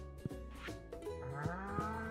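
Cows low in the Stardew Valley farm game, a drawn-out moo rising and bending in pitch over a soft background, quiet and close, with no voices heard.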